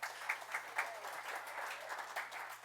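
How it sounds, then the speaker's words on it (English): Audience applause for town board members at a community center public information meeting, steady clapping from a modest crowd lasting the whole stretch with a few sharper individual claps standing out. "Please give them a round of applause."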